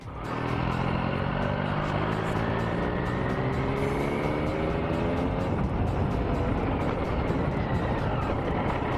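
A Triumph Street Triple 675 motorcycle tuned to 110 horsepower accelerates through an industrial zone, its engine note climbing steadily in pitch through the gears, loud and close with continuous exhaust roar and no talking.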